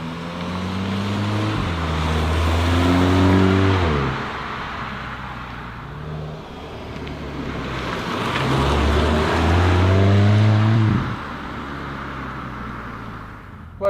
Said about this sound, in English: that accelerates quite well, doesn't it?